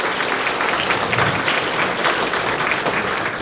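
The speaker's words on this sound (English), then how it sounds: "Give them a big round of applause." Dense, steady applause from an audience at a chamber of commerce celebration honoring past chamber presidents, loud and continuous throughout with no voices standing out.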